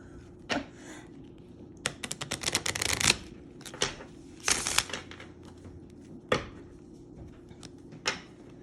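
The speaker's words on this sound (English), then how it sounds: "it's a little harder to shuffle than a standard size, but I can riffle shuffle this" Bursts of rapid riffle shuffling of an oversized Celtic Lenormand card deck, crisp fluttering clicks in several short runs separated by quieter pauses and a few sharp taps, close and fairly faint.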